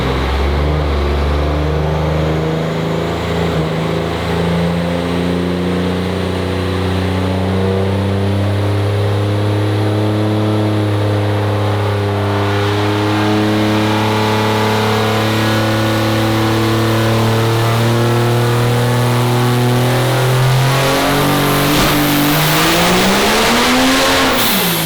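A turbocharged race car engine on three stages of nitrous screams on a dyno, a loud, sustained pull whose pitch climbs steadily for over twenty seconds before cutting off, with no talk over it.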